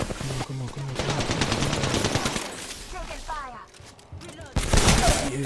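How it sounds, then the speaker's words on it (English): Gunfire in the video game Apex Legends, rapid automatic bursts rattling loudly and close, with a pause before another heavy volley, while a player talks over it. "Ain't nobody else shooting, bro? Am I the only one shooting?"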